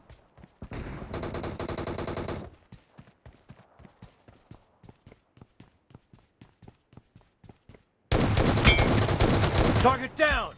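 An S12K shotgun in PUBG Mobile fires in two long, loud, rapid-fire bursts, separated by a stretch of sharp, evenly spaced clicks or steps.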